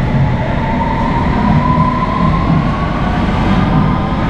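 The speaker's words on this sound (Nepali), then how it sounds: "कति लामो ट्रेन हो यार" A long train rolls past steadily and close by, its continuous rumble of wheels and rail noise holding even throughout with a faint high whine on top.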